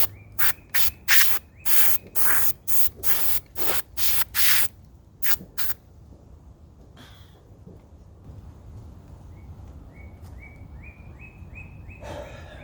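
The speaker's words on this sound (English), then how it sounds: "I'll just use some of this canned air." Canned air blows dust out of drilled holes in stone, about a dozen loud close hissing bursts in quick succession, then quiet with faint birds chirping in the background.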